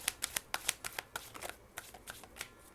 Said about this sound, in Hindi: एक और कार्ड निकालूंगी मैं, one more card divine, one more card